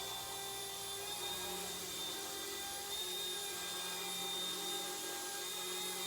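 An Eachine E120 BO-105 RC helicopter flies indoors, its small rotor and motor giving a steady, even whirring whine that holds without a break from start to finish, with no voices.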